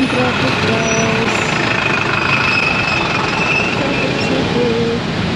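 Street traffic heard from inside a taxi: a steady, loud engine and road rumble with a droning hum that does not let up, close and continuous.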